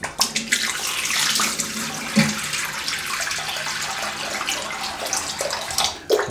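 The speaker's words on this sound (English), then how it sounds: "I'm just dipping the tips of the brush." A shaving brush's tips are dipped into water after a shower, giving a close, continuous watery rush with small splashes and occasional knocks, no voices present.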